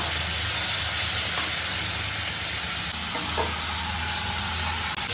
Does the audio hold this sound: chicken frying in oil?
yes